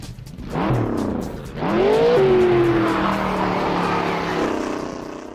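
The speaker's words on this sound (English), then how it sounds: "This is the Ford Coupe from 1940." A 1940 Ford Coupe in the Assetto Corsa racing game revs hard, its engine note rising and sliding as the tyres squeal, loud and close, with no talking over it.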